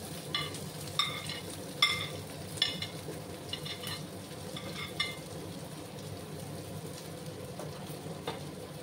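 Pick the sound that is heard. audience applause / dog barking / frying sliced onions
frying sliced onions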